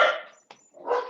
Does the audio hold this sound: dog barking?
yes